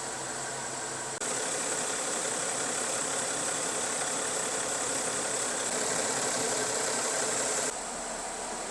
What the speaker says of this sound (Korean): 좀 시동 걸어가지고 온도 올라올 때까지 기다리고